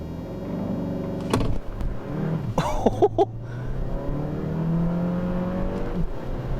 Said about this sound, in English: to activate power shot, pull both of the paddles until that icon comes to life, and we'll really hold the brake hard